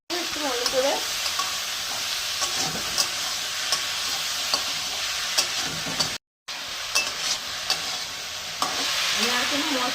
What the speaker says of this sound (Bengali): একটুখানি গুড় দিলাম, একটু ভালো করে